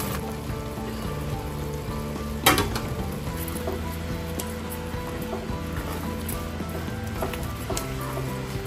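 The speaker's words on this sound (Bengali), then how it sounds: "এখন ডালটাকে আমি একটু অল্প আঁচে একটু ভালো করে কষিয়ে নিই।" Lentils (dal) sautéing in a pan over low heat, a steady soft sizzle with repeated scraping and stirring clicks from a utensil and one sharper knock partway through, close and without talk.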